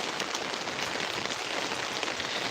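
Heavy rain pours down steadily, a dense continuous hiss of drops falling on surfaces with no talking, loud and unbroken throughout.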